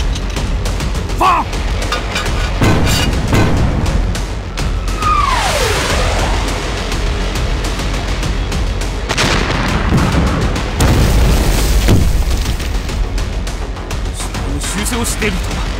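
Artillery shells whistle in and burst in a war-film battle scene against Japanese forces, with a descending incoming whine followed by repeated heavy booms and crackling gunfire over a loud, continuous rumble.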